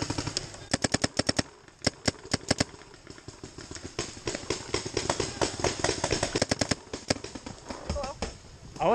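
A Planet Eclipse Geo 3.5 paintball marker fires during an outdoor woodsball game, with rapid bursts of sharp pops in quick strings, close and loud, and players calling out faintly between volleys.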